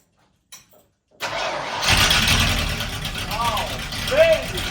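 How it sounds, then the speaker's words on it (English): A rusty 1982 Ford Bronco cranks briefly in the cold, then its engine catches and roars up loudly to a rough, rumbling idle with a few throttle blips, with a voice speaking over it. "Cold start time, baby."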